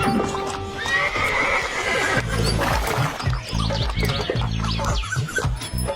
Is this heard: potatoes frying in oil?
no